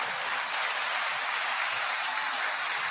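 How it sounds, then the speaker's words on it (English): Steady, dense applause from an audience fills the whole stretch, a continuous even wash of many hands clapping with no voices over it. "9-second applause."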